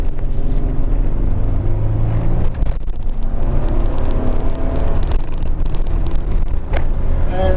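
A 2002 Nissan Elgrand Spec-X 4WD accelerates on the road with a loud, steady engine and road rumble that fills the whole stretch, heard from inside the vehicle.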